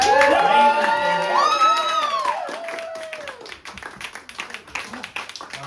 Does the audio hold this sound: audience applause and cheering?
yes